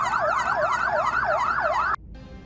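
An ambulance siren wails loudly and close in a fast repeating up-and-down yelp, cutting off abruptly near the end and leaving low street noise.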